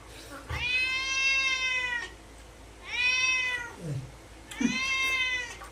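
A cat meows three times at close range. Each cry is drawn out and strongly tonal, with short pauses between them over faint room noise.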